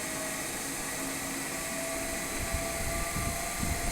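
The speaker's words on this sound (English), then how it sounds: "after applying 220 volt to the armature circuit, the motor will start running" A DC shunt motor running on 220 volts at its armature, a steady whirring hum with a high-pitched whine, continuous with slight low rumbles toward the end.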